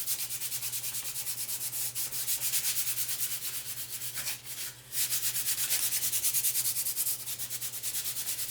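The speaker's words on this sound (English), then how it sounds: "I'm going to sand this particular piece" A wooden fence peeker piece being hand-sanded in steady, rhythmic back-and-forth strokes, a close, continuous scratchy rasp with a brief pause near the middle.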